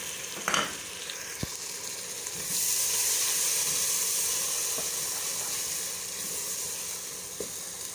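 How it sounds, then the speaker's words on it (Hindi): Ginger garlic paste hits hot oil with browned onions in a pan for chicken achar gosht, setting off a loud, close hissing sizzle that swells and then holds steady, with a few spoon knocks and no talking. "अब हम इसमें अदरक लहसुन का पेस्ट ऐड करेंगे।"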